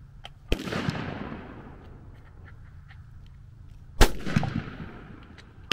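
Two loud, booming rifle shots from a Bergara B14 HMR chambered in 6.5 Creedmoor at an outdoor long-range setting, each a sharp crack followed by a long rolling echo, spaced several seconds apart.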